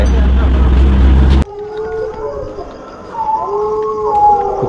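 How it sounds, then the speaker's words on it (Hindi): A loud burst of noise gives way to wavering, drawn-out dog howls at a distance in Jaisalmer, Rajasthan, several overlapping tones rising and falling against low background rumble. "कुत्तों की रोने की आवाज आने लगी"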